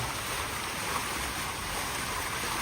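Water moving at night in mild weather makes a steady, soft wash of lapping and flowing, continuous and even with no distinct splashes, heard alone without voices.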